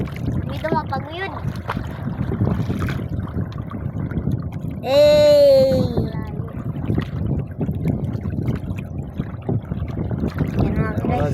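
Boat engine noise and wind rumble throughout from an approaching boat, with people talking over it in Filipino and a brief high vocal cry in the middle.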